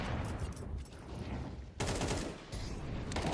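Counter-Strike 2 gunfire during a StarLadder Budapest Major match, rapid bursts of shots cracking in quick succession with brief gaps, moderately loud and close.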